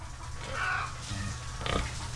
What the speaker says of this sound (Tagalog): Ito naman yung baboy naming halpor na buntis.